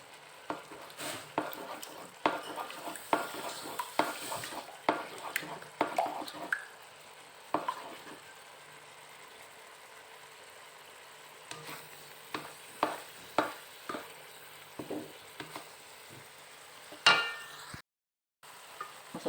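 Noodles being stir-fried in a pan with sweet soy sauce: close scraping and stirring strokes in irregular bursts over a soft sizzle, with a quieter stretch midway and no speech.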